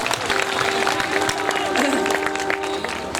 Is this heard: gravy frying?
no